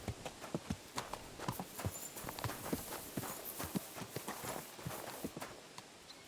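Horse hooves clip-clop at a steady walking rhythm in Kingdom Come Deliverance 2, a long run of regular hoof strikes at moderate distance over a soft outdoor background, with no talk.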